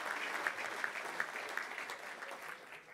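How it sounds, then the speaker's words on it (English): Steady applause from an audience at the California Hall of Fame ceremony, a dense wash of clapping that holds strong and then tapers off slightly toward the end. "you can give them a round of applause"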